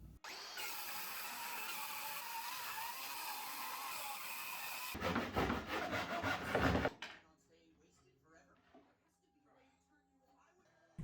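A power tool cuts an acrylic table top along traced lines, a loud steady whine for several seconds before a burst of rough rattling cutting noise, then quiet faint handling sounds.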